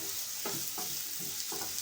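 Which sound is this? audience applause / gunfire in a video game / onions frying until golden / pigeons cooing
onions frying until golden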